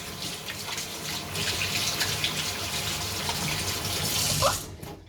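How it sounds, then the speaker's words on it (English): Steady running water from a tap splashing into a sink as hands are washed under it, loud and continuous for several seconds with slight changes in flow, no talking. "I would always wash your hands in warm water and running them under the cold water"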